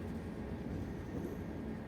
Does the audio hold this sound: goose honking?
no